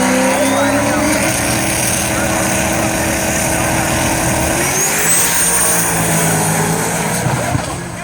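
Drag racing cars at an NMRA spring break shootout roar down the strip, a loud, sustained engine howl with rising pitch sweeps as the cars accelerate, then fading slightly near the end, with a commentator talking over it.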